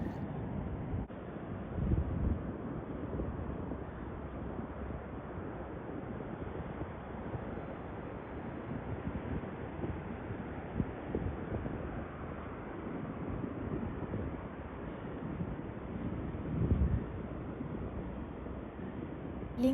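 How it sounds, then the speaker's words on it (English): Steady wash of ocean surf and wind buffeting the microphone at Cape Kiwanda beach in Pacific City on the Oregon coast, a continuous low rumble of waves with gusty wind noise throughout, no talk. "Feeling the sound of waves and walking on the beach is really an amazing experience."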